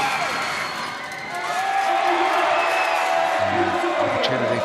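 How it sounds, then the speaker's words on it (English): A basketball crowd at a Franklin Bulls versus Manawatu Jets game cheers during free throws, a sustained loud roar of voices and whoops filling the arena without letup. "Yeah, the crowd's into it now."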